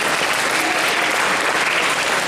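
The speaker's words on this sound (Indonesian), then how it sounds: "Tepuk tangan untuk SMK kita ya," Loud, dense applause from an audience at a poetry festival, continuous even clapping throughout with no voices standing out.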